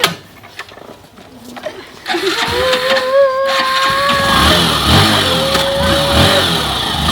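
A second-hand motorbike, an Apache, kicks into life after a quiet stretch and then revs with rising and falling engine whine, loud and close, while people talk faintly at the start.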